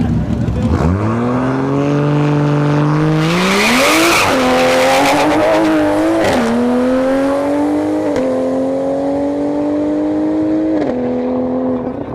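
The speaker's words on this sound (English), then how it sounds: "He's spinning out there at the launch" A drag racing car at the launch on a dragstrip spins its tires, the engine rising in a loud sustained roar with screeching tire squeal, close and continuous, while an announcer talks over it.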